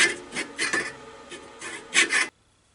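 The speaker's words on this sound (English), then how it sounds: "then I'm going to use a saw to finish it off" Hand saw rasping through a small turned wood penguin ornament piece on a lathe, a series of uneven strokes close up, ending abruptly in quiet.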